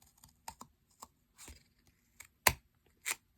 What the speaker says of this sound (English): these scissors, if you take them and if you just snip down the edge